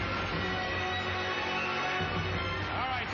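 A dense, roaring electronic effect on the Greed game show, the Terminator sound: a sustained wash of noise that holds steady at full loudness with a swooping tone near the end, with no talk over it.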